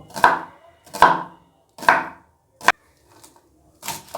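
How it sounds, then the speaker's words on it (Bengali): A knife chopping onions finely on a board, five or six distinct crisp chops spaced roughly a second apart, close and clear with quiet gaps between, and no talking. "এবার ঝিরিঝিরি করে পেঁয়াজগুলোকে কেটে নেব"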